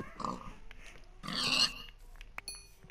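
Pig grunting and oinking in the Minecraft video game, a few short snorty grunts at moderate volume, mostly alone with faint game sounds.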